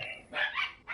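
Dogs barking in a video game, a few quick yips and barks in under a second, fairly faint and close together.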